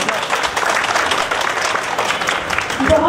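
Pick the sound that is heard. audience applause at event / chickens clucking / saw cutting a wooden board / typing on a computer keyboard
audience applause at event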